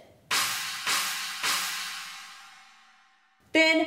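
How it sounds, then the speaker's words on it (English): A Chinese cymbal (bo) for dragon dance music is struck three times in even succession, each a bright crashing wash that slowly decays, then a fourth, sharper clang cuts in at the end. "You also usually find a Chinese cymbal,"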